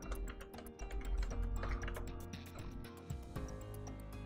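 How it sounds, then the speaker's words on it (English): A password being typed on a computer keyboard while setting up a network firewall admin login: quick, irregular key clicks in short bursts, close and moderately loud, with no speech. "I'm assuming the password is correct, but I'll type it in again just to be sure."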